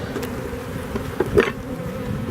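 Bees swarm around an open beehive, their dense buzzing hum filling the air close by, with a few louder passes as individual insects fly near.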